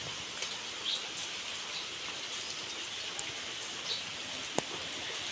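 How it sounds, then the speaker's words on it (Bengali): Rain falls outside on a rainy day, a soft, continuous patter heard from indoors, faint and even with a few scattered drip ticks. "এই যে দেখেন বাহিরে বৃষ্টি পড়তেছে।"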